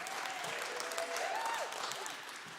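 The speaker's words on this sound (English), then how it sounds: "Please give a big round of applause for practitioner Melissa K." An audience at a Sunday spiritual service applauds a new backup vocalist: steady, sustained clapping at a moderate level, with faint tonal sounds running beneath.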